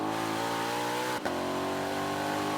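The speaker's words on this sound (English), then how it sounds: "Oh my God, the downshifts, the way it sounds." A Ford Mustang GTD's loud engine holds a steady harmonic drone, then gives a brief dip and blip as it drops a gear and pulls again; close and sustained, with no voices.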